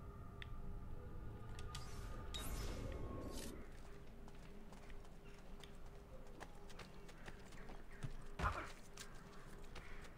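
Horse hooves clip-clop steadily in Assassin's Creed II, a brisk walking rhythm with a brief whinny-like burst early and a sharper knock near the end, moderately close with no talk over it.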